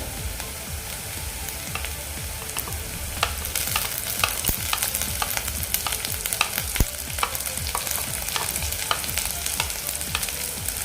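Green chillies frying in hot oil in a pan for upma, a continuous dense crackle and sizzle with sharp pops and utensil scrapes scattered across, close and steady without any talking.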